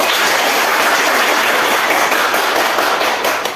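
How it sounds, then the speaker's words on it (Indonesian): A classroom of schoolchildren claps for their teacher in a sustained, dense burst of applause that holds steady and loud for several seconds before tapering slightly at the end. "ibu minta anak-anak tepuk tangan untuk ibu dulu."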